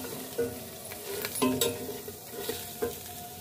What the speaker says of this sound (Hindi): हल्का सा रोस्ट कर लेंगे।